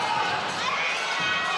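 Crowd in a basketball arena during an MPBL regular-season game between Valenzuela and Parañaque roars with excited cheering and shouting, a dense, loud, continuous swell over a short burst.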